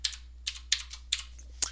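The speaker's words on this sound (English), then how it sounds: "I'm typing in the command space instead of here." Typing on a computer keyboard, a few quick, crisp key clicks in small irregular bursts, close and fairly quiet over a low steady hum.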